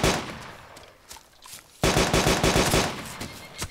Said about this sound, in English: He's shooting me. Firing again. He's firing.